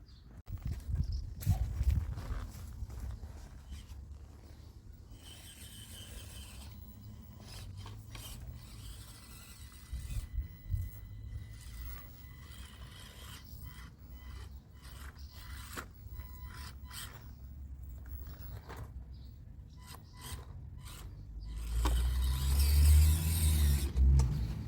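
Axial RC crawler working slowly over a garden course, with rasping and scraping of tyres on rough ground, small motor whirs and gritty rubbing, bursting louder near the end.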